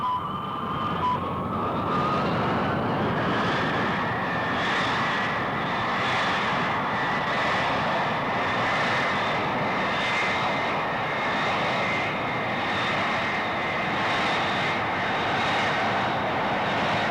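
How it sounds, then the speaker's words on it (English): Steelmaking OG process (oxygen converter gas recovery) furnace blowing: a loud, steady, broad roar that holds constant throughout, with a faint rising tonal whine early on. "The blowing begins."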